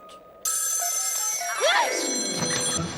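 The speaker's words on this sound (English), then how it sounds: "That was a tantalizing tintinabulation." A ringing bell in a cartoon haunted house, a loud sudden bright jangling ring with a wavering tone that gradually fades.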